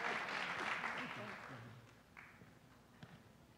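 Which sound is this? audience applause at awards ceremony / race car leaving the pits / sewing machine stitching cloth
audience applause at awards ceremony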